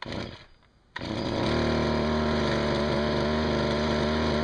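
A Stihl weed whacker's small two-stroke engine catches after a brief pull and settles into a loud, steady buzzing idle close by, running on without pause.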